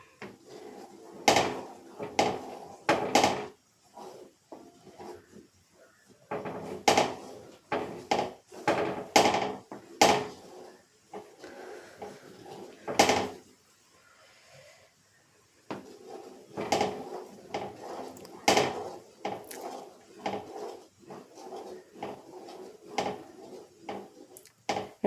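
A spoon knocks and scrapes against a pot while thickening jam is stirred. The sharp wooden and metal clacks come in irregular bursts close by, with a short quiet pause near the middle.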